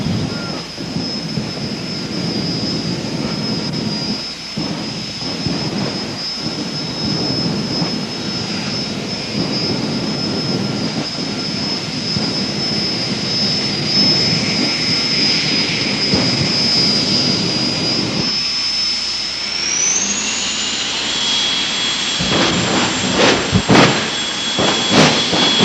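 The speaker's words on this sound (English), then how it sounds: "Jet car action on the starting line area now." Jet dragsters roaring with a sustained high-pitched whine at the starting line of a drag strip at London Motorsports Park in 1992, the engine pitch rising sharply near the end as the cars spool up to launch.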